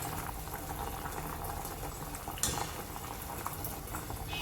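Potatoes for horse gram curry boil in a pot, a faint continuous bubbling simmer with a brief clink near the middle.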